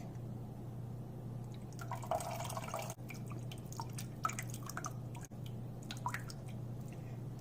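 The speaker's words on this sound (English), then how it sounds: "I'm going to pour in the tamarind juice." Tamarind juice poured into a boiling pot of Singapore-style mee siam gravy, giving faint, quiet liquid splashes and drips over a low steady background hum.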